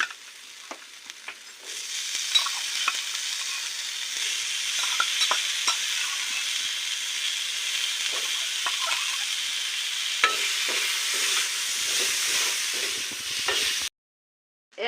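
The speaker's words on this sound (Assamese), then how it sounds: "এতিয়া ৰঙচুৱা হওঁতে মই ইয়াত এই কেঁচা মটৰখিনি দি দিম।" Raw green peas frying in a pan with garlic and ginger for matar paneer: loud, continuous close sizzling with intermittent scrapes and knocks from stirring, ending in sudden silence.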